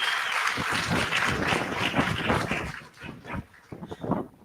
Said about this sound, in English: can you please give them a huge round of applause?